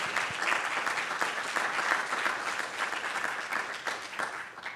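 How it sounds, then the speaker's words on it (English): Sustained audience applause in a room for the sponsors of a student pitch competition, an even, full wash of clapping heard alone at a moderate distance throughout. "let's give them a round of applause for that"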